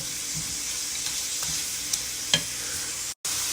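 Ground turkey browns in a hot pan for chili, giving an even, close sizzle with a few faint scrapes and clicks and a sudden brief dropout near the end; nobody speaks.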